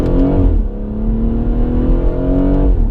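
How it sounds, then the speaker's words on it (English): A BMW M140i's engine revs hard and steadily, a loud throaty exhaust roar that rises in pitch and holds, with no voices. "And let's hear that exhaust."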